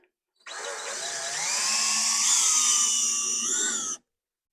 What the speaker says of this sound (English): drill bit here. If we do hit a stud, that can just be our pilot hole